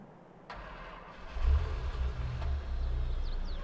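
An old TLX 82 truck engine in Farming Simulator 22 cranks and fires up, settling into a steady low idle rumble, close and alone.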